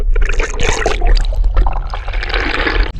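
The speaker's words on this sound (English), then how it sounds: "I'm hearing some rapids." River water rushes and splashes around a kayak on the Devil's River in Texas, a loud, close, continuous churning with a low rumble beneath, with no talking.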